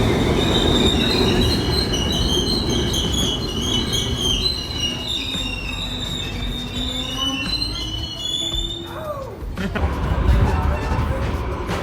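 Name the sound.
train passing with squealing wheels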